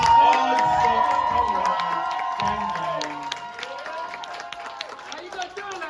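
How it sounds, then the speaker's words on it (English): An audience at a spoken-word poetry event cheers, whoops and applauds for a performer, a loud, dense burst of crowd noise with shouting voices that slowly tapers off. "So everyone give a round of applause for the Odd Socks."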